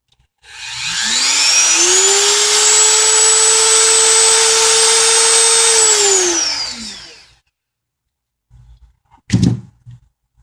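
Small 7,500 RPM brushless motors on a micro drone spin up to a steady high-pitched whine, hold for about five seconds, then wind down, followed by a few soft handling knocks.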